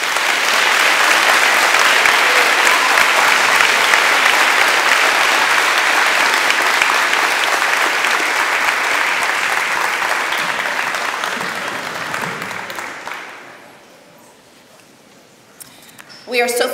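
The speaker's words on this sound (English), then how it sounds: "Let's have a round of applause for the new inductees." Sustained audience applause for new inductees at a National Junior Honor Society induction ceremony fills the room, many hands clapping steadily for over ten seconds before fading out, leaving a quiet room with a few faint sounds.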